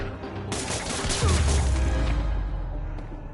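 Rapid, dense gunfire in a Spider-Man video game, loud and sustained, mixed with a low rumbling boom beneath the volley.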